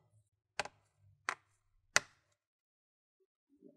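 Plastic retaining clips on a Lenovo Gaming L340 laptop case crack loose as it is pried open: three sharp, close snaps about a second apart, then quiet with a faint rustle at the end.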